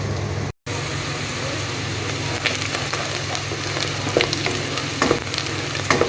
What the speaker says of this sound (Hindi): कुकिंग ऑयल के अंदर प्याज को मैंने लाइट ब्राउन कर लिया है